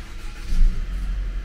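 A German car's engine starts up with a deep, loud rumble that swells briefly and then settles into a steady low idle.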